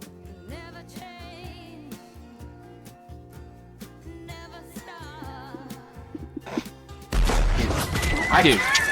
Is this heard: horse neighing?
yes